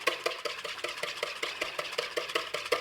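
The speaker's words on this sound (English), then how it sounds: "And we're just going to whisk those until foamy." A hand whisk beats egg whites in a bowl until foamy, a quick steady rhythm of light clicks and taps against the sides, close and fairly quiet, with no talk.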